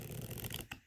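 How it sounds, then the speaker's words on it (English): Unsleeved Keyforge cards being riffle shuffled up close, giving a brief dense flutter of card edges that drops off abruptly near the end, with no talk. "Watching a poor guy shuffle extensively."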